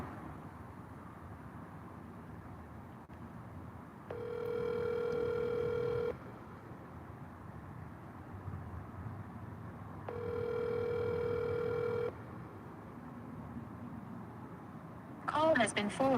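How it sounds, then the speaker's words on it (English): An unanswered phone call rings out through a handset: two long electronic ring tones a few seconds apart over faint background noise, followed by a brief automated tone as the call is forwarded. "Got one that don't want to answer the phone."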